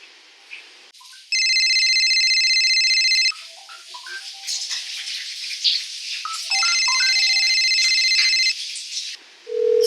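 Outgoing call ringback on a telephone line: two long, steady electronic ring tones, each about two seconds, separated by a pause with faint background clatter, loud and close.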